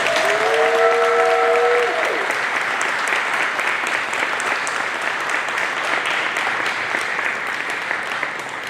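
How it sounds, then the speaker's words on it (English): Families and friends in a large hall give a long, even round of applause at a Navy Nuclear Field A School graduation ceremony. A couple of sustained whistle-like tones cut through at the start, then the clapping holds steady, slowly fading. "please join me in a round of applause for the Navy's newest third-class petty officers"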